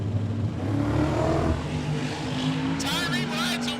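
A 3rd generation Camaro drag car roars at a drag strip, its engine note rising as it launches and pulls away, with a commentator talking over it.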